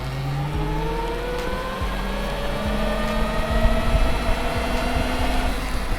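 A Voge ER10 125 motorcycle accelerating on a test ride: rising engine harmonics climb steadily through the gears in a sustained, moderately loud pull with no talking.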